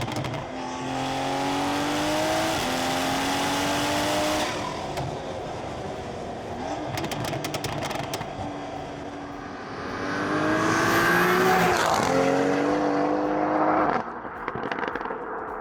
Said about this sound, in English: I'll put some clips of us doing pulls and flybys so you guys see how fast this thing